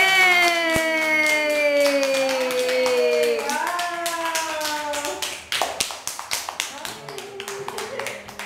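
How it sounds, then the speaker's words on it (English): At a child's birthday party, a group claps in quick, sharp, close bursts. A tonal melody plays loudly at first, and the clapping becomes more prominent as it fades. "Clap, clap, clap, clap, clap!"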